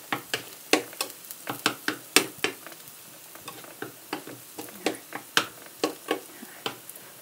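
Garlic frying in a pan as the heat is switched off, with a steady soft sizzle under repeated sharp scraping stir strokes, a regular rhythm of about two per second, close up and with no talk.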